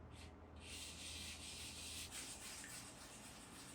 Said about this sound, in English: take my little piece that I wanna sand here, and get after it.